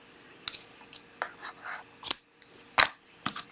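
Scissors snip through ribbon while a simple daisy-themed greeting card is made, with a handful of separate crisp cuts at uneven intervals, close and fairly quiet.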